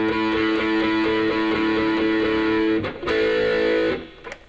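Heavily distorted electric guitar holding a thick, buzzing chord that rings on, then a second chord struck and sustained before fading out.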